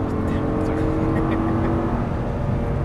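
A 525 hp Audi R8 V10 on a track in Las Vegas, its engine holding a steady loud drone under light throttle, with a constant tonal whine and coach-like talk over it.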